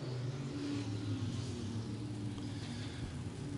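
Race cars circling a dirt speedway oval in an E Mod, Pure Stock and sprint car feature, their engines a steady, distant droning roar with no clear passes or gaps.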